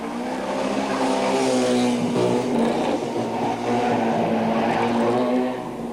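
Rally cars race flat out through a stage in 1990, a loud, sustained engine roar with rising and falling revs and a brief dip near the end.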